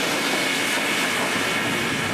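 A pair of Chinese QJ steam locomotives arrives after hauling a train through the mountains, a steady broad rushing roar of steam and rolling rails, loud and unbroken.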